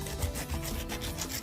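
A knife saws through the tough peel of a large pineapple in a close, quiet, rasping rub with short back-and-forth strokes.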